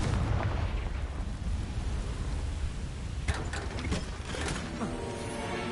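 A Confringo fire spell blasts in Hogwarts Legacy, a dense rumbling explosion over steady game ambience, with bright crackling bursts and debris snaps in the latter half.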